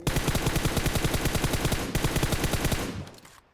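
Rapid automatic gunfire from a PUBG match on the Livik map, a loud sustained burst of evenly spaced shots lasting about three seconds before trailing off, with no talk over it.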